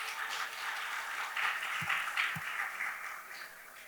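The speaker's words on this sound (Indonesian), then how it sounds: "boleh tepuk tangan yang first voter kemarin" First-time voters in the audience of a post-election talk show in Semarang clap together. The applause is steady and moderately distant and carries on through the whole stretch, with a couple of faint low thumps.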